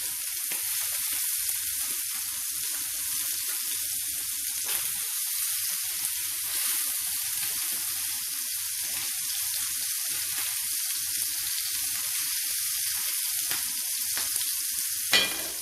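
Kotlety patties fry in oil in a frying pan, giving a steady, close hiss and sizzle with no letup, broken by a few faint clicks and scrapes.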